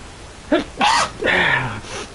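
A character sneezes in the Skyrim video game, a short sharp voiced burst followed by a second, longer sneeze, heard close and clear without talk.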